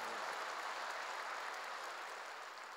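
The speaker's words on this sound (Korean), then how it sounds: "박수하세요." Applause from a church congregation during a sermon, a steady dense wash of many hands that holds evenly at moderate level and tapers slightly toward the end, with no talking over it.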